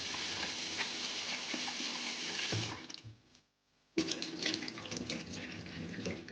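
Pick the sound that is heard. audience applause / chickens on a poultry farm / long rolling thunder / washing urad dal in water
washing urad dal in water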